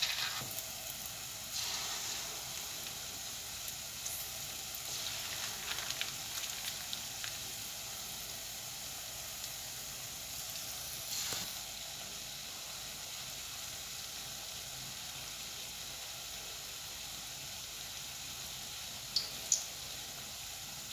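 Puff puff dough fries in hot oil with a quiet, constant sizzle and crackle that holds low and steady throughout. A few faint clinks and stirring touches sound near the end.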